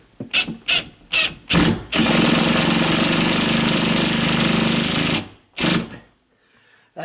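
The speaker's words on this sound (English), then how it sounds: "That's the beauty of these impact drills" An impact drill drives a drywall anchor into 1/2-inch sheetrock: several short buzzing bursts, then one sustained three-second hammering run, a final brief burst and quiet, loud and close.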